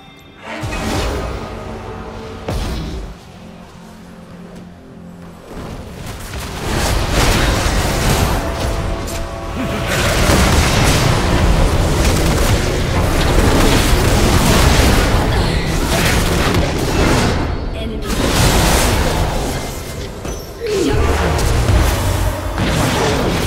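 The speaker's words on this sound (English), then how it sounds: "Your turret has been destroyed." Turret destruction explosions in a League of Legends match on Summoner's Rift: a quiet opening, then a long stretch of loud, dense booms, bursts and whooshing impacts with brief dips.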